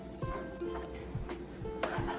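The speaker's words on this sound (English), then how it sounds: "Crack 1 egg into the pan." Faint sizzling from an egg frying in a pan with shrimp fried rice and chow mein, soft crackle under a few light stirring taps and scrapes of a utensil.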